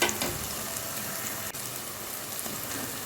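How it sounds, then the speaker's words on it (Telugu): Coconut prawn curry fries in oil in a pan as it is stirred, giving a steady close sizzle with crackling spatter throughout. "మాడకుండా తిప్పుకుంటూ బాగా వేగాలండి. నూనెలో వేగితేనే కూర పాడవదు"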